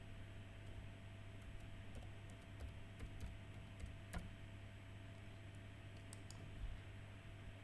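Typing on a computer keyboard to enter a search word, a quiet scattered run of light key clicks over a steady low hum, with no voices.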